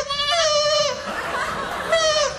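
A goat on a talk-show stage gives two loud, wavering bleats, one at the start and another near the end, with laughter from people in between.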